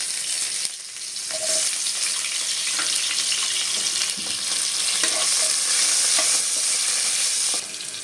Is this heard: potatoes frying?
yes